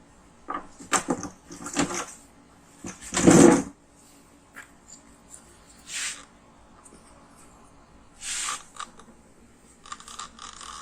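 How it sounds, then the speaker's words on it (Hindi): A refilled HP 12A toner cartridge is fitted into an HP M1005 printer, giving several separate plastic clicks, rattles and scrapes, with one louder clunk near the middle and short ratchety bursts between quiet gaps. "हम डायरेक्ट प्रिंटर में लगाएंगे, ये जाम नहीं होगा और अच्छे से घूमने लगेगा।"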